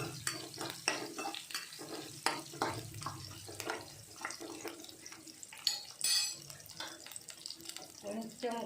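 Onions, dried chillies, curry leaves and seasoning seeds sizzle in oil in a pan, with repeated scraping stirs and clinks of a spoon against the pan, close and moderately quiet.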